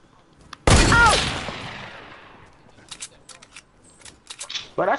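A loud burst of gunfire in a shooter video game, a sharp blast followed by a decaying tail and scattered quieter shots, with players talking over the game audio.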